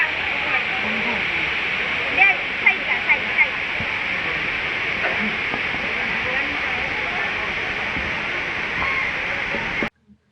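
A waterfall in the Philippines roars as a steady, dense rush of water during wet weather. It holds evenly for about ten seconds, then stops abruptly, with a few faint clicks and taps heard over it.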